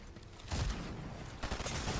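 Gunfire in Fortnite Chapter 5 Season 3 comes as two bursts of rapid shots, one in the middle and one near the end, fairly faint and with no talk over them.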